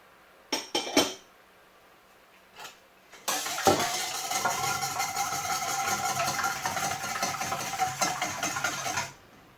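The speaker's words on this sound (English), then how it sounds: "The first thing I need to do is lightly beat my eggs" Eggs lightly beaten in a bowl for homemade choc-mint ice cream: a few sharp clinks at first, then about six seconds of steady, rapid whisking rattle, close and moderately loud.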